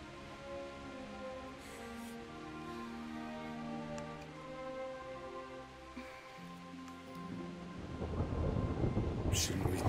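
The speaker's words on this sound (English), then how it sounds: "Not afraid of thunderstorms, are you?" A thunderstorm with rain in the video game Kingdom Come: Deliverance: a steady wash of rain under sustained music, then a deep, loud rumble of thunder swells near the end.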